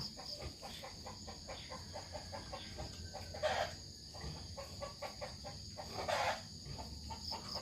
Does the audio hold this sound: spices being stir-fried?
no